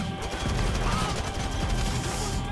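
Gunfire in GTA V Online, a loud continuous barrage of rapid shots and impacts layered over game background noise, with no pause throughout.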